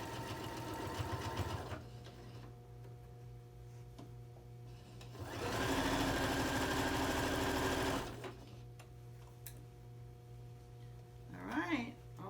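A sewing machine sews a fabric bin with short bursts of rapid stitching, a loud run in the middle between quieter motor hum, and a voice briefly heard near the end.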